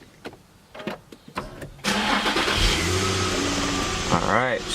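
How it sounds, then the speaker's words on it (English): An Infiniti M35 engine cranks briefly and catches after a crank sensor and spark plug replacement, settling into a loud, steady idle up close, with a few sharp clicks beforehand and a brief rising whistle near the end. "Alright, started right up"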